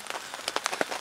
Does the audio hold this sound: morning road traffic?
no